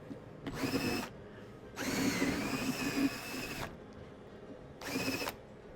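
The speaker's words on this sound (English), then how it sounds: "the drill is not quite doing what I want it to" Power drill whirring in three separate bursts, short, long, then short again, with quiet pauses between, as it is run through a pumpkin to loosen the seeds.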